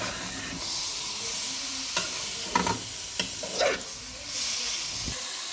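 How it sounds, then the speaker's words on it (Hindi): Chicken sizzles in hot oil in a kadai while a spoon scrapes and stirs it, a continuous close hiss broken by several louder clanking strokes against the pan. "इसको हम थोड़ा सा भून लेंगे ताकि तरह ना कच्चेपन की जो चिकन की स्मेल होती है ना वो ख़त्म हो जाए"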